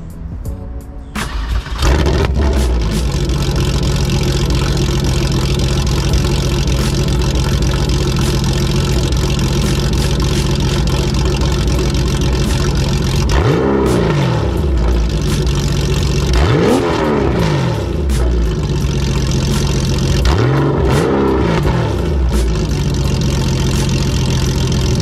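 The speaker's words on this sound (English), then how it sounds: "still to this day, it's one of the most unique sounding Porsches, just because of, it sounds brutal" Porsche 993 911 with a titanium exhaust idles loudly up close, then revs hard three times with sharp rising and falling sweeps, settling back to a steady idle between blips.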